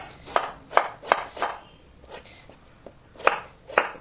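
A knife chops peeled beetroot into thin pieces on a cutting board, giving about nine crisp, close knocks in an uneven rhythm with short pauses between, and no voices.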